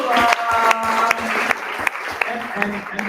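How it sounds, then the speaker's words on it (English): An audience at a business talk on AI applauds steadily, a dense wash of clapping throughout while a voice speaks over it. "I want to give a big round of applause to Aziza Azimova."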